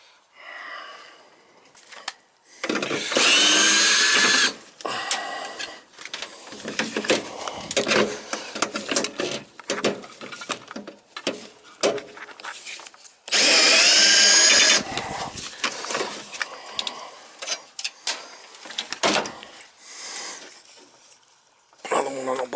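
A power drill whirs in two long bursts, stopping and starting while screws come out of a Goodman gas furnace exhaust blower, with clanks and handling noises in between.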